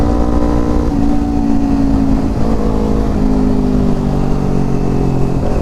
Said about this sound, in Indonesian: knalpotnya nggak berisik gitu